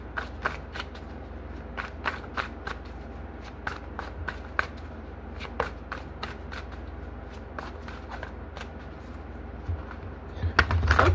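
Tarot cards being shuffled by hand at close range, a quiet series of crisp riffling snaps and soft slides repeating at an irregular rhythm over a faint low hum, with a louder rustle at the very end.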